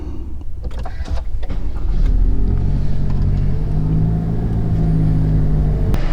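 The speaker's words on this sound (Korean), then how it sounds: "자, 시동을 먼저 걸겠습니다." A rental car in Thailand cranks and its engine catches, settling into a loud, steady idle rumble close by, with a few clicks and clunks at the start and a sharp click near the end; no one speaks.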